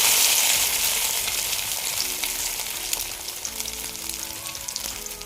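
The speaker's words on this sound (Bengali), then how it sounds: "এইভাবে একটা একটা করে সবগুলোকে উল্টাপাল্টে ভেজে নিব।" Noodles fry in hot oil in a wok, producing a loud, continuous sizzle that eases slightly over a few seconds. A few faint clinks come through as pieces are turned.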